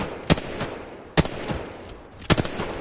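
Gunshots fired in a video game aim trainer's scout challenge: three sharp, isolated reports about a second apart, each a single crisp crack over a steady low background hum, with no talking.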